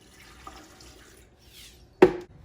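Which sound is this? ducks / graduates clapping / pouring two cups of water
pouring two cups of water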